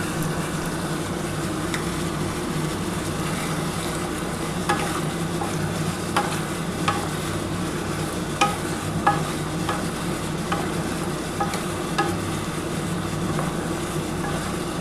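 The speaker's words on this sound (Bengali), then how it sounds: "এবারে খুব ভালো করে এই পুদিনা পাতা ধনে পাতা দিয়েছি, এটা ভালো করে কষাতে হবে।" Chicken stir-fried on a tawa with a mint and coriander leaf paste, a steady sizzle and fry running throughout with frequent scraping clinks of a spatula against the iron pan, close and fairly loud, no talking.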